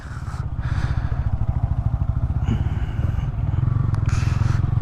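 A Yamaha MT motorcycle engine idles close by with a steady pulsing throb while being parked at Hingi Falls, San Nicolas, Pangasinan, joined by a little clatter partway through.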